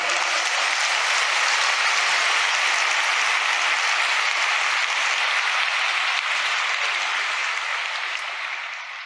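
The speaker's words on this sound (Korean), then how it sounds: "박수 한번 해보라고" Audience applause at a large religious assembly, a steady dense roar of clapping that holds for several seconds before tapering slightly at the end.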